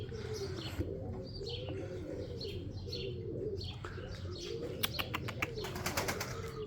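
Pigeons cooing in repeated low, rolling phrases at an early-morning pigeon loft, with chirps and brief wing flaps rising toward the end over a steady background hum.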